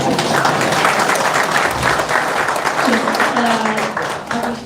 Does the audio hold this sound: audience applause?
yes